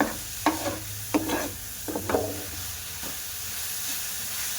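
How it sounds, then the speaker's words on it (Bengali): Sugar is stirred into grated raw mango for mango laddu, giving a handful of soft, uneven scraping strokes. They come in separate bursts over a faint steady background hiss, close and quiet, with no talking. "তা দিয়ে এবার ভালো করে আমের সঙ্গে মিশিয়ে নেব"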